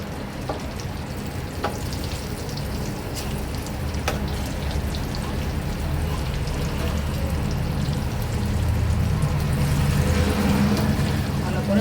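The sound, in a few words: eggplant frying in a pan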